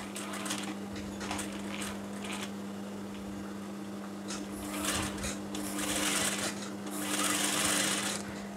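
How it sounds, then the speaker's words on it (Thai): A sewing machine stitches a woman's shirt collar along a marked line, its rapid steady whirring running in bursts that grow louder toward the end, with a constant low hum underneath. "เย็บตามเส้นที่เรากลิ้งที่เราปักไว้เลยนะคะเย็บเนาแน่นเลยนะคะ"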